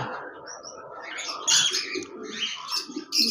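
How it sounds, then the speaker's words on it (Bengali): Lovebirds in a caged collection with nest boxes fitted, giving sharp high chirps and squeaky calls in scattered bursts, close by and moderately loud. "এখানে কিছু লাভবার্ড পাখির কালেকশন রয়েছে, সবগুলোতেই বক্স লাগিয়ে দিয়েছি।"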